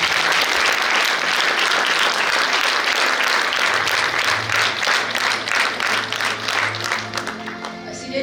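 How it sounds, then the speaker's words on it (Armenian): Loud, sustained clapping from an audience at a school stage event honoring fourth-grade students, a thick wash of applause that fades slightly at the end, with no voices on top. "եւս մեկ անգամ ծափարեք մեր ողջույնները։"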